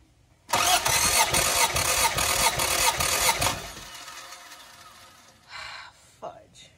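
An engine on a T72 cranks over during a cylinder compression test. The starter churns loud and rhythmic for about three seconds, then stops. Voices speak briefly afterward.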